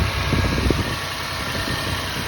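An off-road vehicle fitted with a Z1 Offroad induction system idles nearby with a steady low rumble and a fan-like whir, holding at a constant level with no revving and no voices.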